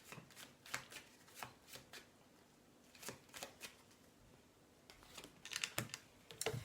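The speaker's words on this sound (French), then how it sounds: "Allez, je vous prends encore une petite carte" Tarot cards shuffled and drawn, soft riffling and sliding card sounds in irregular bursts, quiet and close, busier toward the end.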